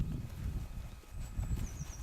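Pony hooves clip-clop in a soft, uneven shuffle close by as the animal steps away across the ground, with low thuds and faint rustling and no voices.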